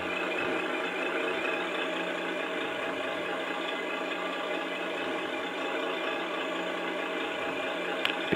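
A steady, droning truck engine sound from a Tamiya RC truck's electronic sound module idles continuously at an even level, with a brief click near the end.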